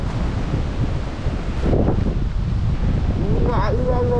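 Strong wind from Typhoon No. 14 roars steadily across a microphone at the seashore, with rough waves churning foam beneath it, a continuous loud rush that never lets up.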